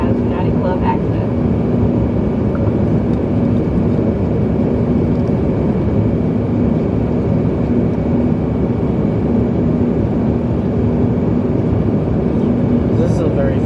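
Steady, loud broadband engine roar fills the cabin of a United Express CRJ-200LR regional jet in flight between South Bend, Indiana and Chicago O'Hare, unbroken and constant throughout.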